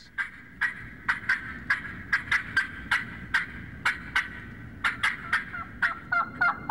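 A contestant imitates an excited turkey hen's cutting yelp at a turkey calling contest, a voice producing a fast, loud series of sharp, clucking yelps in an uneven rhythm over a murmuring indoor crowd.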